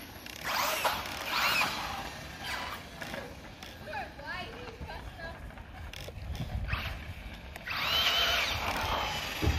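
An FTX DR8 RC car's electric motor on 6S power whines in short bursts, rising and falling as it accelerates, with people talking between the runs.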